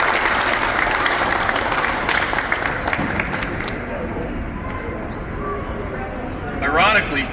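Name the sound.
audience applause for Brock at Conrail anniversary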